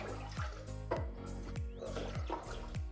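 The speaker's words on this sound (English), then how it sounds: "take a pot, and we're just gonna pour everything in here" Vinegar and other liquid glug and splash into a cooking pot in a steady run of rhythmic gurgles, close and fairly loud.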